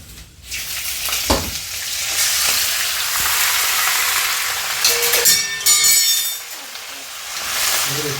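Curry leaves fry in hot oil in a pan, giving a loud, steady sizzle with crackles and stirring scrapes, joined near the end by brief bursts of sharper spitting.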